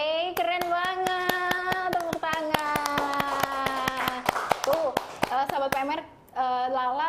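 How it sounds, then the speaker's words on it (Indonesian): Sharp, evenly spaced hand claps ring out close and clear during a podcast chat, a quick series of crisp slaps cutting through a sung, drawn-out voice that continues over them. "Keren banget, tepuk tangan"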